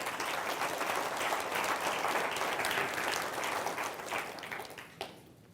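Audience applause for a volunteer called up on stage, steady dense clapping from a crowd that holds for several seconds before tapering off.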